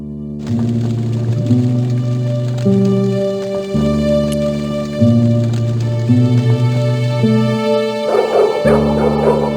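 A dog barks repeatedly in Broken Sword: The Smoking Mirror, loud, close yips and barks over tonal game music, with no talk.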